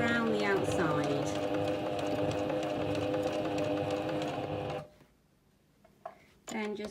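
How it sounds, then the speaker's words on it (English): A sewing machine runs steadily while stitching around the outside of a drawstring wash bag, a loud, continuous whir under speech that stops partway through, followed by a quiet stretch and a short restart. "I'm just going to sew all the way around the outside."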